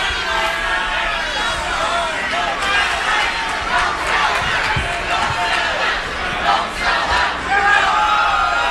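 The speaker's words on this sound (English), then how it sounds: "Crowd is mixed through it all." A wrestling arena crowd reacts with a loud, sustained roar of mixed shouting and chants, dense and continuous throughout, with voices calling out across the crowd.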